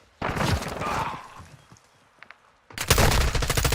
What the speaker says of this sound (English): this guy is shooting